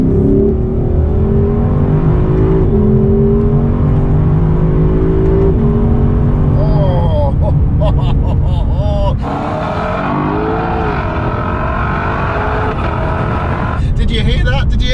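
A Lexus LC500 V8 in second gear and Sport Plus mode revs and accelerates with a loud, rising engine roar that climbs through several sweeps, heard from inside the cabin while a person talks over it.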